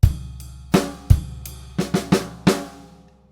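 A drum kit plays a one-bar groove at Grade 4 level, with about eight sharp hits mixing kick and snare strokes, each ringing briefly, close and alone before fading out.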